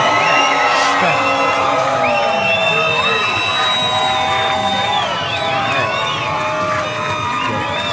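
A boxing crowd cheers and whoops for a fighter's entrance, a loud, dense mass of shouts and high yells that stays strong throughout, with commentators talking under it.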